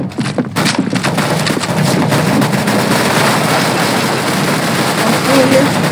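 Gunfire in the video game CS:GO rattles in dense, loud bursts that blur into a continuous roar of shots and booms, with a player talking over part of it.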